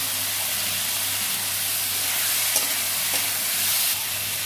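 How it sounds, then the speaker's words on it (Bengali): Coriander and cumin powder being sautéed in a pan with egg, potato and ridge gourd, a dense steady sizzle with a low hum underneath and a couple of faint spatula taps, close and continuous. "হাফ চামচ ধনে গুঁড়ো আর হাফ চামচ জিরে গুঁড়ো এটা কষে নেব"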